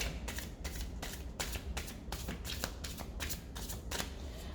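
Playing cards are shuffled repeatedly, each riffle giving a quick papery flutter in a rapid, uneven rhythm, close and quiet.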